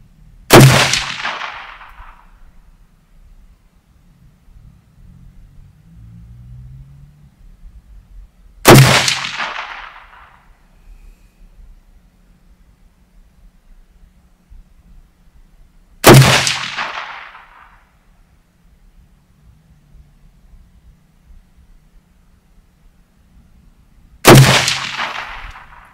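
Four loud, sharp rifle shots spaced several seconds apart, each with a brief ringing tail, separated by quiet stretches with faint low rumble.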